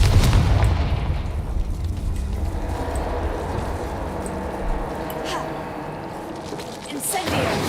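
Confringo blasting spell in the Hogwarts Legacy video game: a loud booming explosion at the start that decays into a long rumbling tail, with a further burst near the end.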